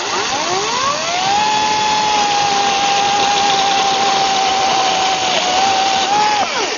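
A battery chainsaw cutting wood: the motor whines up to a steady high pitch, holds for several seconds, then dips briefly and revs again, loud and close.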